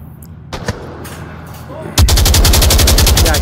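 Gunfire in the VR shooter Onward: a couple of single shots early on, then a loud, rapid automatic burst of evenly spaced rounds lasting about a second and a half, close and dominant.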